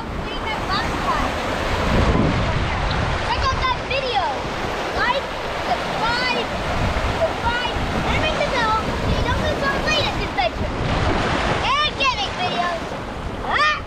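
Wind gusts outdoors in Hawaii, buffeting a paper map and the microphone with a rough, continuous roar, while people talk over it.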